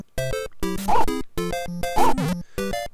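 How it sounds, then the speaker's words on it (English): The Duck Hunt dog in Super Mario Maker gives a series of chiptune-style barks and yips, bright electronic bursts in a bouncy repeating rhythm with short gaps between them. "Going to walk as I am the Duck Hunt dog."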